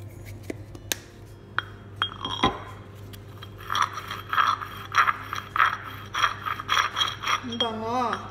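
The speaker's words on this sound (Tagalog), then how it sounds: "So, mag-grind pa tayo." Cumin seeds being ground by hand while cooking tortilla chips: after a few scattered clinks and knocks, a steady run of rhythmic scraping, crunching grinding strokes starts up and continues, fairly close and moderately loud.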